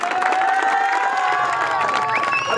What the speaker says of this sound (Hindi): एक दफा फिर तालियां दी राजा बाबर के लिए